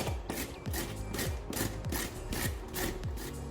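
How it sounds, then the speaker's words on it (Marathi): Carrots rubbed over a large grater give a rhythmic series of rasping strokes, about nine even scrapes in quick succession, close and clear. "दोन मध्यम साईजचे गाजर घेतलेले ते किसून घेऊ आपण"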